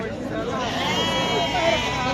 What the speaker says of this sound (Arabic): نعطيكم الحاله ديال هذا الخروف كما كتشوفوا معنا.